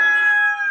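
A rooster on a building site in Belize gives a short, loud, close crow, cut off after less than a second.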